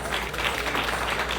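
Applause from an audience at a Krishna Janmashtami celebration, a dense, steady clapping wash that fills the whole short stretch at close range.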